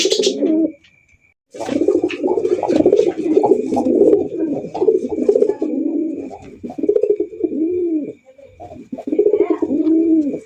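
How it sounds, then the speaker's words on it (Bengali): A pair of pure Golla pigeons coos loudly and close by in repeated throaty rolling phrases, with a brief silent pause near the start. "দেখেন কত সুন্দরভাবে ঘুইরা ঘিরা ডাকতেছে"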